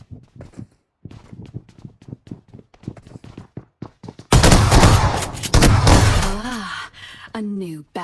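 Gunfire in the mobile battle royale game BGMI, a sudden loud burst of rapid shots and crackle after a stretch of quieter game sounds, easing into scattered pings near the end.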